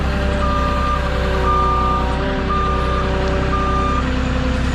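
A reversing truck gives a regular, evenly spaced series of loud backup beeps over a steady diesel engine drone, with no voices.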